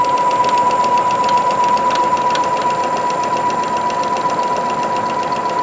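A Singer Futura Quintet sewing machine runs with its bobbin turning, giving a continuous, fairly loud mechanical whir with a steady high hum and fine rapid ticking throughout.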